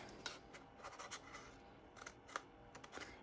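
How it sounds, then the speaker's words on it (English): Close, quiet snipping of scissors cutting tabs off a paper gift box, several short cuts with light scratching and rustling between them. "I'm gonna cut off both of those tabs and this tab right here."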